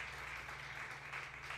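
A congregation applauding during a church prayer service, a faint, steady patter of many hands clapping at a distance beneath a low hum of the room.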